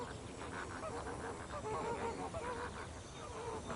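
Large flock of lesser flamingos calling together, a dense continuous goose-like honking chorus heard from a distance, with no single bird standing out.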